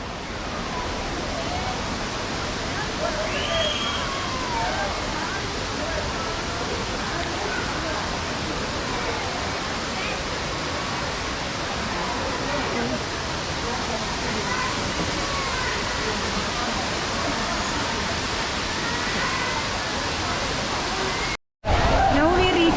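A steady, broadband rush of Aagaya Gangai waterfall in the Kolli Hills fills the scene continuously, loud and unbroken, cutting out briefly near the end.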